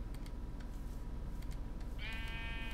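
A sheep bleats in the video game Minecraft, a short steady nasal tone that comes in late over constant rain and background noise.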